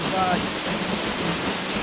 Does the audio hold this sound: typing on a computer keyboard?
no